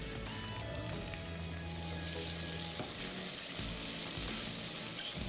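Masala of golden-brown onions, tomatoes and ginger frying in a pan, a steady close sizzle and bubbling throughout with no voices.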